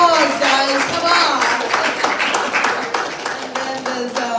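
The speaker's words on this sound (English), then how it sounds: "And give her a round of applause, guys, come" Audience clapping at a live business summit, a steady patter of hands under music and a voice, fairly close and moderately loud throughout.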